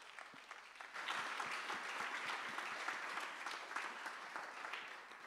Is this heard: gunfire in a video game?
no